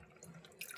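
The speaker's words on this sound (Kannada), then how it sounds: "ಈ ಥರ ನೀರು ಹಾಕ್ಕೊಂಬಿಡೋಣ." Water poured into a cooking pot that already holds some water while preparing a challari kayi (cluster bean) stir-fry; a faint, brief trickle that swells into a slightly louder splash near the end.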